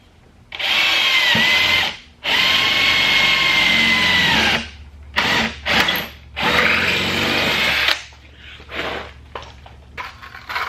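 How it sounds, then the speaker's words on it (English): Rivet gun popping rivets while fitting a body kit on a Mazda Miata, several loud close bursts of pneumatic whirring broken by pauses, with shorter clicks and handling noises toward the end. "we're gonna go ahead and pop these rivets so it holds in place"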